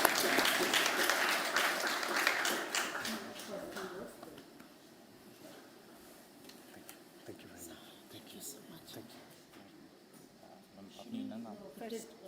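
Audience applause at a climate law event, a burst of clapping that is strongest at the start, fades into a quieter murmuring room, then rises briefly again near the end.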